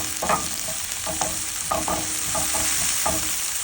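Shrimp fry in a hot pan with a continuous bright sizzle, punctuated by several short scraping stir strokes at an irregular pace; close and fairly loud, with no voices.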